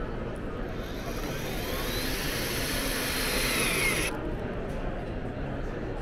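HYTORC industrial hydraulic bolting tool tightening a nut to 350 foot-pounds, a steady loud mechanical whine and hiss that runs unbroken for several seconds before its high hiss cuts off, with the tool's drone continuing underneath.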